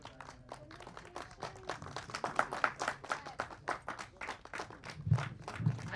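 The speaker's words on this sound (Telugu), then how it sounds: "ఒక్కసారి గట్టిగా చప్పట్లతో" A small crowd claps at a logo launch for a doorstep tailoring service, with several seconds of steady, lively applause close by.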